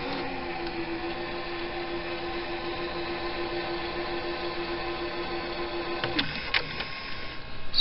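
Mechanical whir of a 1984 General Electric 1VCH5010X VHS player rewinding a tape, a steady near hum with a sustained tone that shifts and clunks near the end as the transport stops.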